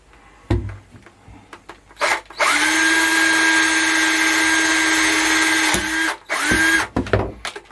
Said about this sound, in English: So you go through that way with a small drill bit